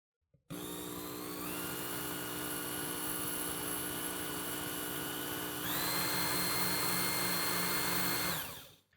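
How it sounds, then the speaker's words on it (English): Belt sharpener running at low speed with a fine belt while a serrated knife is drawn across it: a steady close motor whine and belt hiss, rising slightly in pitch partway through, then spinning down at the end. "Make sure the serrations are in contact with the belt, power on, and draw across, making contact with each of those serrations."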